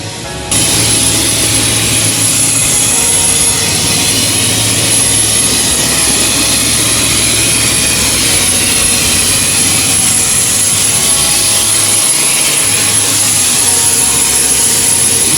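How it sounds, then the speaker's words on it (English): Steady, loud jet engine roar from a Tez Jet McDonnell Douglas MD-83 of the MD-80 series in Kyrgyzstan, a continuous broadband drone with a high whine running unbroken throughout, with no talk. "And so here I go again, boarding the MD-80 for the second time."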